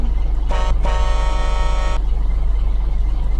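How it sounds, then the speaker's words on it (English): A Scania P310's standard horn in Euro Truck Simulator 2 sounds twice, a short toot followed by a longer steady blast, over a constant low engine drone; no talking. "That's the standard horn."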